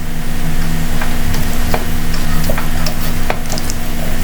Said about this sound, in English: Now I'm adding the tempering to the main dish that we cooked. Just give it all a nice mix